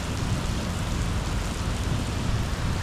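Heavy rain pours steadily in Missouri, a dense, continuous hiss of drops on surfaces with a low rumbling undertone, loud and unbroken throughout.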